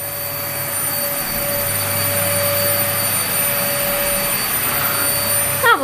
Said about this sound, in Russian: Страшный и ужасный зверь по имени Пылесос.